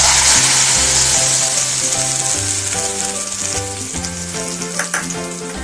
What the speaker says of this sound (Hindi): अब इस ऐड ऑन तड़के को दाल के ऊपर डाल देते हैं।